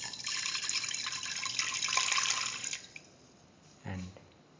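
Water pours steadily onto mung beans in a pan for a few seconds, a bright splashing stream, then stops with a brief knock at the end.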